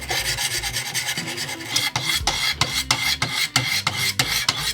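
A knife is drawn across a 400 grit stone on a Wicked Edge Generation 4 Pro sharpener, giving loud, close rasping strokes in a quick regular rhythm, about two per second.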